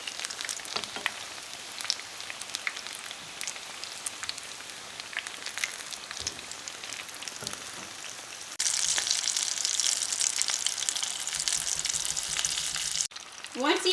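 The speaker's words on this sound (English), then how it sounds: "we're gonna flip it to the other side, and you wanna fry each side" Chimichangas frying in hot oil with a steady, crackling sizzle, busy with sharp pops; the frying swells louder and brighter partway through as a piece is flipped, then cuts off briefly near the end.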